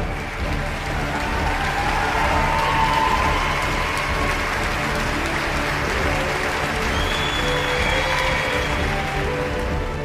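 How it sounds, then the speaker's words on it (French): Applause at a film festival awards ceremony, a large crowd clapping steadily and loudly for the full length, with a faint murmur of voices and a thin whistle-like tone drifting through partway. "Applaudissements pour mademoiselle Bibi Mati."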